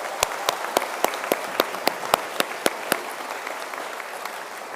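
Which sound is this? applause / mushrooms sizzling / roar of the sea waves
applause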